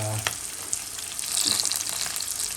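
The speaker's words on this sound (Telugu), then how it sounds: "కొన్ని లవంగాలు వేస్తున్నాను, black elaichi, normal elaichi, and అదేవిధంగా అనాస పువ్వు" Whole spices such as cloves, black and green cardamom and star anise sizzling in hot oil for a fried egg biryani, a steady bright crackle that swells midway, with a few soft clinks.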